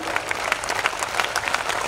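Audience applause at a Hindi poetry recital, a dense patter of many hands clapping steadily for the whole stretch, close and unbroken, with no voice over it.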